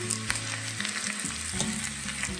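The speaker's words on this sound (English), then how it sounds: "You can hear that sizzle." Ground sausage and ground beef sizzling in a Dutch oven, a steady close crackling fry with occasional scraping stirs, loud and continuous, no voices.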